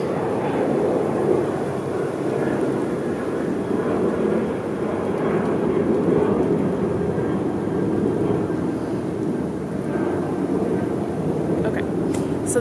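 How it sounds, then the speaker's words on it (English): Airplane passing overhead as a steady, fairly loud low rumbling drone that holds throughout, with someone talking over it. "oh, there's another airplane"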